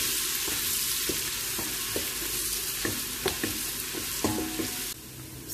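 Onions frying in oil for a Tunisian couscous, a steady sizzle with spatula scrapes and clinks on the pan at irregular intervals, close and alone.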